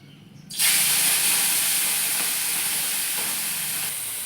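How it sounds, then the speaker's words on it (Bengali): Prawns drop into hot oil in a village kitchen, bursting into a loud, steady sizzle of frying that holds for several seconds and slowly eases, with faint stirring scrapes and no talk. "তেল গরম হয়ে গেছে, এবার আমি দিয়ে দেবো চিংড়ি মাছগুলো।"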